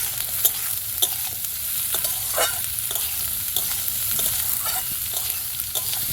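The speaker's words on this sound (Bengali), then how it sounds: "সবগুলো মিক্স করে খুব ভালো করে ভেজে নেব।" Chopped capsicum and onion sizzle steadily in a hot pan while being stirred, with repeated scraping clicks of a spatula over the constant frying hiss; no one speaks.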